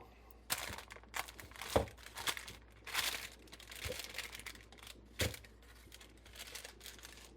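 Homemade garlic scape compound butter being unwrapped by hand, giving crisp crinkling and rustling bursts in irregular spurts, close and fairly quiet, with no talking.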